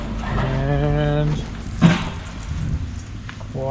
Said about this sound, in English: No nozzles in yet, which is why we got the crazy spray going.